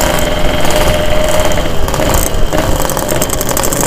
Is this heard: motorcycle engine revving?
yes